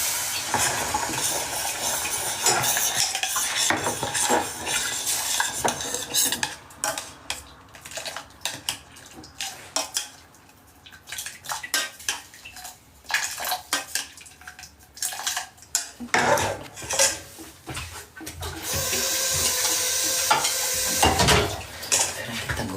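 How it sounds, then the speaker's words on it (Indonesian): A home kitchen pan clatters as a metal utensil scrapes and stirs, with a faint sizzle of frying beneath loud, irregular clinks and scrapes that continue throughout. "Sekarang kita goreng telur ya, goreng telur."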